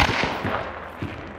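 Rapid gunfire bursts in the video game Hunt: Showdown, loud and close, with a few sharp reports early and another near the end over a busy, noisy game background.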